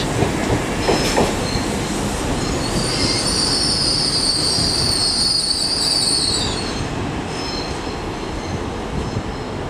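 A Class 195 train pulls away from Leeds station, wheels rumbling and clicking over the rails, while a high metallic squeal rises in the middle and fades as the train moves off.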